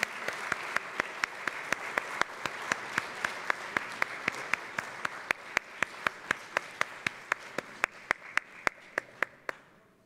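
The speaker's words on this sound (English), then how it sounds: "please give a big round of applause to Priest Mori Seihan" Applause fills a closing-ceremony plenary hall at a large conference: dense, steady clapping from many hands with sharp individual claps standing out, continuing for several seconds before tapering off.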